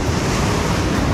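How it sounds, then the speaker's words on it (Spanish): Rough sea surf crashes and churns against a rocky fishing shore, a loud, dense, continuous roar close by, mixed with wind buffeting the microphone. "El mar nos está echando, está muy movido ahora"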